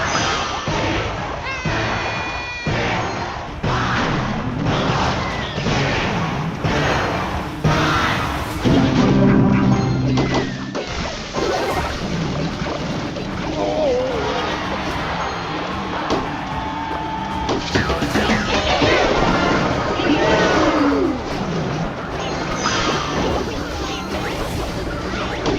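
Mortar and Firecracker attacks in the mobile strategy game Clash Royale, dense overlapping thuds, crashes and whooshing impacts with game music and effects, under steady commentary.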